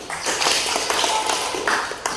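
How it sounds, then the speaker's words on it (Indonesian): A small classroom of students claps for a classmate; a short burst of fairly close, uneven hand claps with sharp individual taps, fading slightly toward the end. "Tepuk tangan untuk Mona."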